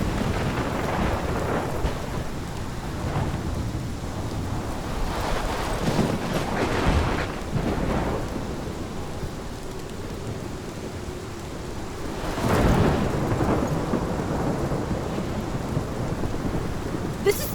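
Thunderstorm with heavy rain in Life Is Strange: steady downpour hiss with several loud rolling thunder cracks, one big clap around the middle, close and enveloping, no voices.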